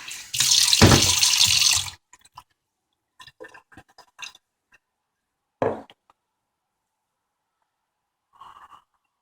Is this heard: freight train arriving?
no